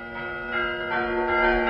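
Church bell rung by hand by a bell ringer in an old archive recording, a sustained, ringing tone with layered harmonics that swells slightly across the short stretch, no voices.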